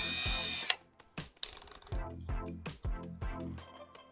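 Milwaukee M18 compact 1/2-inch drill driver spinning in short repeated bursts, each whir starting and stopping in a rhythmic sequence, close and fairly loud with no talk.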